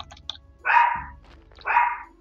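A dog in the game Graveyard Keeper gives two loud, close barks about a second apart, with quiet gaps around them.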